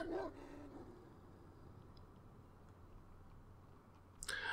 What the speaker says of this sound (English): We're hearing baying howls.